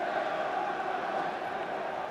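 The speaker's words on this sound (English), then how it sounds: "And just listen to the crowd here at Highbury." Steady roar of a large football crowd at Highbury stadium during a 1996-97 Arsenal versus Chelsea match at half-time with the score 2-2, a constant broad wash of massed voices with no single voice standing out.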